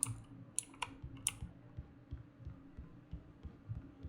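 Faint, sparse clicks and taps sound like typewriter keys in the video game Alan Wake, with a few sharper high ticks early on over a low, quiet background hum.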